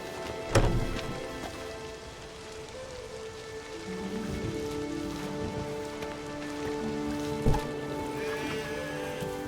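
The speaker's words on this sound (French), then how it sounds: "Quelle averse!" Heavy rain pours during a downpour in The Witcher 3: Wild Hunt, a steady dense hiss on surfaces, with a couple of sharp knocks and faint tonal game ambience underneath.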